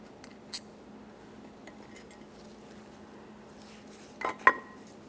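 Metal clinks and taps while a 14mm slider bolt and brake caliper come off the bracket on a 2011-2020 Toyota Sienna, sparse light knocks over a quiet hum, then a cluster of sharper clanks near the end.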